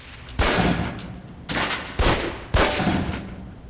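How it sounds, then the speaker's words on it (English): Pistol shots crack at a target range in the video game Alpha Protocol: four sharp, loud reports spaced about half a second to a second apart, each trailing off into a short echoing decay. "Equip the pistol, then aim down range and take some shots at the target."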